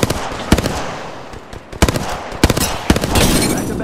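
Rapid gunfire in a tactical shooter video game, with sharp close shots fired in short bursts and single cracks separated by brief pauses, loud and dense throughout.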